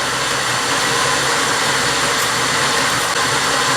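Jeep YJ 258ci inline-six with a Weber carburetor idling, a loud steady rumble close up with no other sounds.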